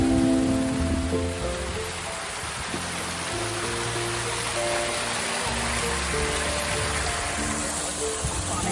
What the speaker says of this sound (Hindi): झरना निकलता हुआ